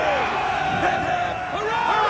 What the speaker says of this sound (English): How's about a cheer for the boys, then, eh?